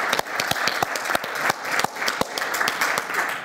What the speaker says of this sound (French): je vous propose de vous lever et d'applaudir tous ceux qui ont réussi